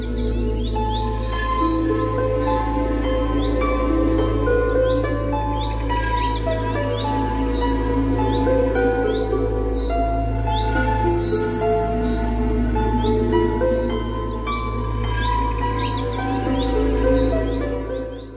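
Sparrows chirp in a busy chorus, many short bright tweets overlapping near and far over a constant low hum, with no voices.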